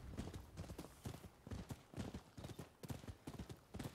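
Horse hooves clip-clop in the video game Rise of Ronin, a quick, steady rhythm of sharp, close footfalls running without pause, with no speech over them.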